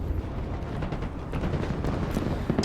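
Distant, muffled rumbling of airstrikes and artillery fire in the modern warfare game Broken Arrow, a low continuous barrage of booms and thuds under battle noise, fairly quiet.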